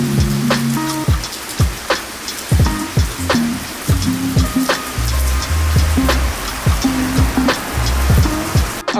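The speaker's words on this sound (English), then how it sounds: "unfortunately it was pouring after the breakfast" Heavy rain pours down in Berlin, Germany, a dense continuous wash with loud individual drops spattering nearby on a hard surface.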